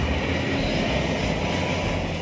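A Transport for Wales Class 150 diesel train runs along the South Wales line, heard from on board as a loud, steady engine and rail rumble that stays even for a couple of seconds with no talk.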